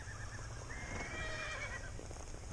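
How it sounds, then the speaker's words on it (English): A horse gives a long, rising then falling whinny over a steady outdoor rumble with faint hoof clops, fairly close and clear. "Uh-oh, there's that crazy horse."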